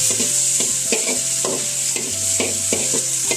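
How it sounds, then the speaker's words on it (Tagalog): Ginger and garlic sizzle in a hot pan while a utensil stirs and scrapes in quick repeated strokes, close and loud with a constant frying hiss underneath and no voices. "igigisa na natin"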